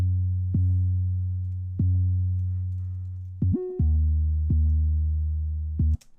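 An 808 bass run through an underwater kick plugin preset: a string of deep, booming sustained tones that each start with a sharp punch and fade slowly, with one brief higher pitched note in the middle.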